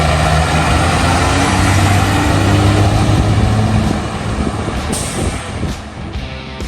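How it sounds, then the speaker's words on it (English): Freightliner Cascadia long-haul highway truck, heard as a loud, steady diesel rumble with broadband road noise that eases slightly partway through, no voices. "Freightliner Cascadia."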